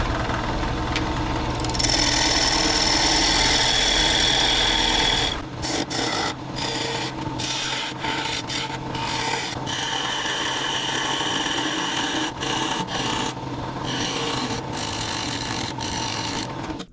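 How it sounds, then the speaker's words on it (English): A steel scraper cuts a dovetail into an old, cracked log bowl blank spinning on a wood lathe, giving a steady close rasping hiss that breaks into choppy, intermittent scraping toward the end. "So let me get my scraper out, make the dovetail"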